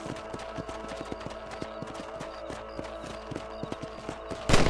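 Horse hooves pound in a quick, even galloping rhythm in the Red Dead Redemption western, close and steady throughout, ending on a brief louder burst.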